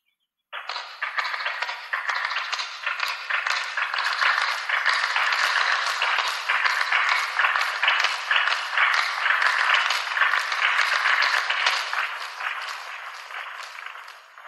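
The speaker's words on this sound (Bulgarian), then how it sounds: "Аплодисменти." A large arena audience applauds steadily at the 1988 World Rhythmic Gymnastics Championships in Helsinki, a dense, sustained wash of clapping starting abruptly and continuing for over ten seconds before easing slightly.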